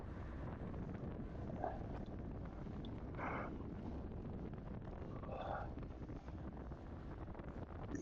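Steady, loud wind rushing over the microphone throughout during a masters 40+ bicycle race at Dominguez Hills, with brief faint tonal sounds in the background and no talk.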